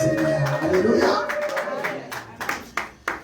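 Scattered clapping from a church congregation, starting under a preacher's voice and ending in a few sharp, separate claps, fairly close.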